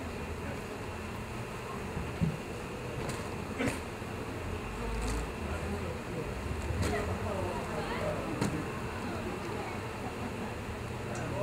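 A dense, steady buzz of many honeybees at a bee beard demonstration hums continuously, close and fairly loud, with occasional faint voices and handling noises beneath.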